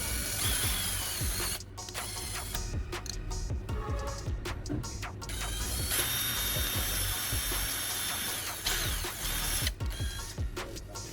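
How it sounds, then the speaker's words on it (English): A small power drill whirs and grinds in short bursts, boring holes in a hard plastic phone charger casing, close by, with mechanical clicks and pauses between runs. "I use a drill to make two holes in the charger casing"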